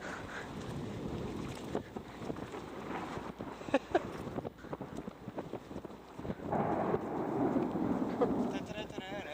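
Thunder rumbles through a thunderstorm over an open field with a windsock, a heavy low roar that swells and fades over strong wind buffeting the microphone, growing louder toward the end.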